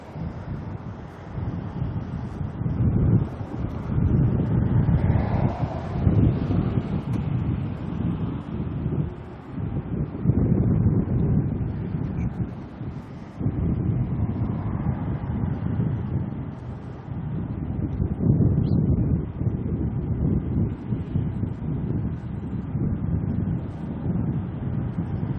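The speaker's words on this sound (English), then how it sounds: "If this wind keeps blowing like this" Steady low-pitched wind buffeting a microphone at Auckland airport, roaring continuously with gusty swells and dips throughout, no voices.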